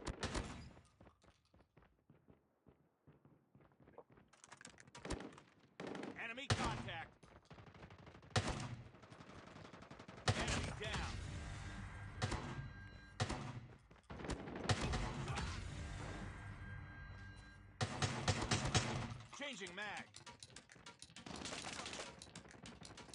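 Bursts of rapid shotgun fire crackle loudly in Call of Duty Mobile, some shots in quick volleys, with dense noisy blasts filling most of the stretch.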